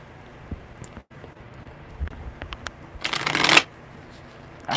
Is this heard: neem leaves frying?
no